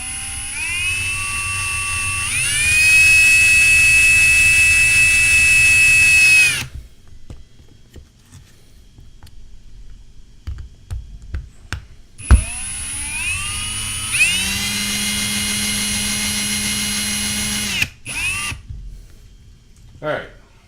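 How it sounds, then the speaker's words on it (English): A power drill drives screws into a switch isolator assembly in two long, loud whirring bursts that rise and settle in pitch, separated by a quieter pause with small clicks and handling noise. "I'm going to use a drill."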